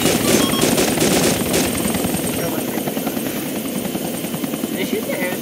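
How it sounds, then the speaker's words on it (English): A helicopter in the video game Arma 2 drones with a loud, steady rotor chop throughout, close, under excited voices with a few sharp bangs early on. "No, they're getting back in the helicopter!"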